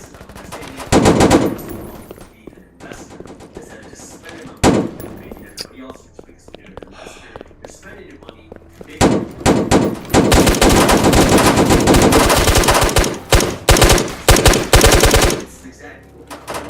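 Automatic FAL rifle bursts in a Roblox horror game, with loud rapid gunfire clustered near the start and a long sustained burst in the later half, quieter game sounds between.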